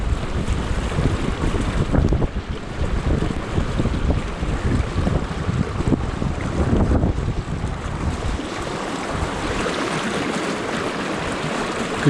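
Strong wind roars steadily past the microphone in a Pennsylvania forest during a snowstorm, a broad continuous gusting rush with no voices.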